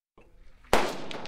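A single gunshot, probably from an automatic rifle, rings out at a Kazakh military firing range as one loud sharp crack after a quiet lead-in, followed by a fading echo.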